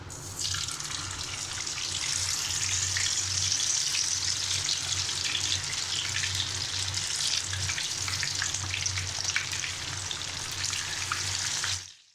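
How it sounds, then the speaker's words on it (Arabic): Dough pieces deep-frying in hot oil for Sudanese dala'a (ribs dish), a steady, loud, continuous sizzle with a low bubbling hum underneath, running unbroken for about twelve seconds before stopping abruptly. "بعد ما الزيت سخن معاي نبدأ التحمير"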